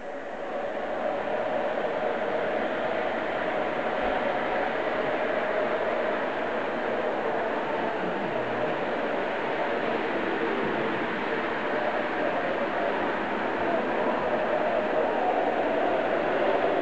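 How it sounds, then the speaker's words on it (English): A model freight train running on a home layout toward a siding, a steady whirring, rumbling hum with little variation, close and continuous from start to end. "Now I'm going to put that freight train off on a siding."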